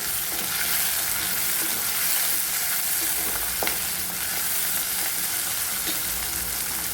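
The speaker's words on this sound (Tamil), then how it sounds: "இந்த தக்காளி பழத்தை கட் பண்ணி இதை இதில் நம்ம வந்து சேர்த்துக்கலாம்" A cut medium tomato goes into a hot pan for yellow pumpkin sambar, producing a continuous close sizzle with faint scraping stirs, no voices.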